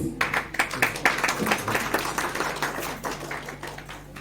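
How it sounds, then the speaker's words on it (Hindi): A crowd claps steadily for several seconds, dense and fairly loud, with no voices over it. "जोरदार तालियां हो जाए प्लीज।"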